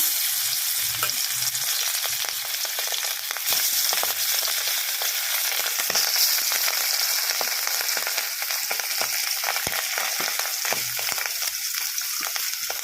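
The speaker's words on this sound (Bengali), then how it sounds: "তেলটা গরম হয়ে গেছে এবার আমি মাছগুলোকে একে একে কড়াইতে দিয়ে দিচ্ছি" Hilsa fish frying in hot mustard oil in a wok: a steady, dense sizzle and crackle runs throughout, with scattered sharp pops and spatters, close and fairly loud, with no talking.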